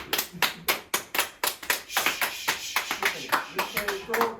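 Close, sharp hand claps from a small group, roughly a dozen distinct claps in a loose, uneven rhythm, with talking mixed in between.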